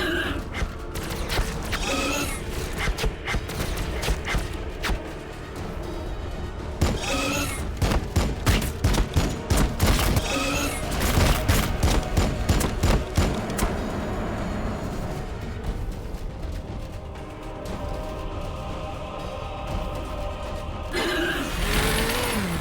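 A sustained plasma fire support barrage in Warhammer 40,000 Battlesector, a dense string of rapid crackling blasts and impacts pounding for over twenty seconds, easing toward the end before a final loud burst.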